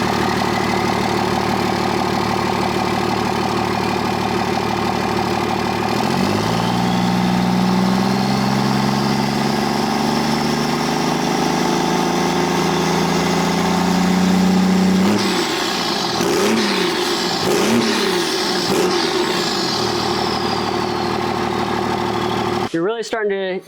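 A diesel truck with a 7-inch TSO side-exit exhaust tip idles with a deep, steady rumble, then revs up in rising pulls and falls back, loud and close, with someone speaking over parts of it.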